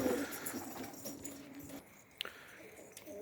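Pigeons being released from a loft after a hawk attack has frightened them: faint cooing and soft bird sounds, with a brief sharp knock near the middle.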